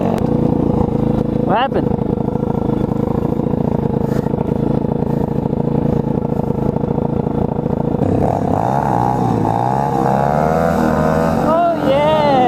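An Apollo RFZ Chinese dirt bike engine roars steadily and close through a wheelie, its pitch sweeping up and down as the throttle rises near the end, with brief talk over it.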